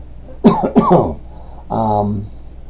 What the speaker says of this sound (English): You're coughing every day.